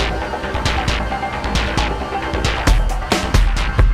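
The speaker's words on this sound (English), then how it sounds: "We made our own custom kit, and then we programmed and sequenced some drums on the Deluge" Custom drum kit programmed and sequenced on a Deluge, with punchy kicks and crisp noisy hits in a driving pattern over a thick low rumble, loud and dense.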